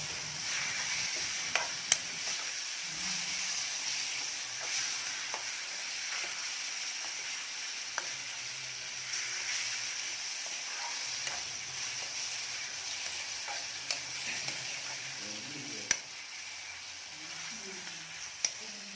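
Cleaned moringa drumsticks frying in a pan of spiced oil with dried red chillies, a steady close sizzle and hiss running throughout with occasional stirring clicks.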